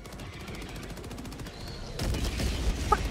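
Automatic weapons fire in the video game Helldivers 2 comes as rapid bursts of shots, steady at first and then louder and denser with heavier impacts toward the end.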